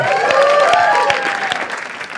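A studio audience at a comedy talent show breaks into loud, dense applause, steady and close, with whoops and a whistle-like cheer sliding over the clapping.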